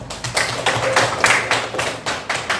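A classroom of students gives a round of applause, a brief burst of dense, rapid clapping from many hands close by, with no talking over it.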